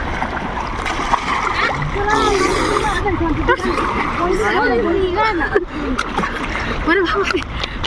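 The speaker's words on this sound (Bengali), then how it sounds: "আর একটা লাস্ট ডুব দিয়ে দিই" Water splashing and sloshing as someone dips into the Ganges, with steady close splashes heard under loud, ongoing talk from the bather.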